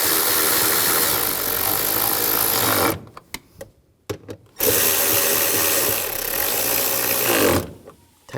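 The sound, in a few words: ratchet tightening bolts on Ford Explorer transmission mount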